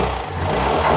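A car engine that has sat unused for a week runs roughly at close range, a loud, steady rumbling drone with an uneven texture throughout and no voices.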